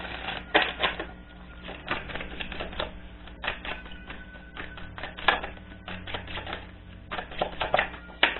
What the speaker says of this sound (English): All right, I need to do a brief shuffle here.